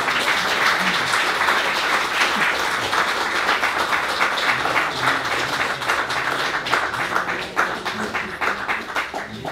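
A crowd applauds at the launch celebration of issue no. 75 of the Cahiers des Dix by the Société des Dix, a dense, steady clapping that fills the room from start to finish.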